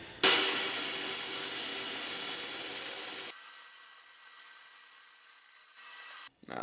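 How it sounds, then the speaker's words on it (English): A bandsaw cuts through a piece of wood stock with a steady, fairly quiet buzzing rasp for about three seconds, then the hissy hum of the running saw continues alone. "I can run this piece of stock through my bandsaw"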